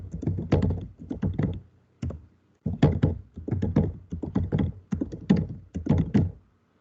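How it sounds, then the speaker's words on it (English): Fingers type text on a computer keyboard in short bursts of rapid clicks separated by brief pauses, close and fairly quiet. "Suppose if I am typing I and then typing some text."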